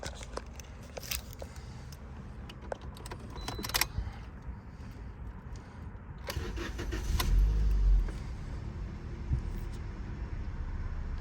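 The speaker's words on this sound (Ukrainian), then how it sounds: "Двигун працює ідеально." A 2014 Toyota Corolla with a 1.3-litre petrol engine and manual gearbox idles with a steady low rumble, joined by scattered clicks and knocks from the cabin, the engine note swelling briefly partway through.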